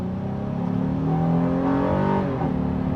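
A 2026 Honda Ridgeline RTL engine accelerates at about half throttle, its tone climbing steadily and loud from inside the cabin, a smooth rising drone with no speech.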